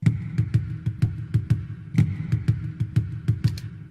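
Bouncy, driving music built on a dotted eighth-note figure, sharp percussive accents repeating steadily over a low pulsing bass.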